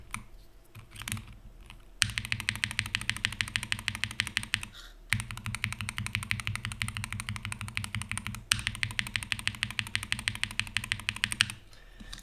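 Rapid, steady typing on a mechanical keyboard fitted with GMK keycaps, close and clear in continuous bursts with a brief pause midway, no talking.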